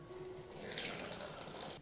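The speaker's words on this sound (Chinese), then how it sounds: "最后再把水给它倒出来" Rinse water pours out of a milk jug filled with soaked mung beans, its mouth sealed with gauze and a rubber band, a soft, brief, steady splashing trickle heard alone.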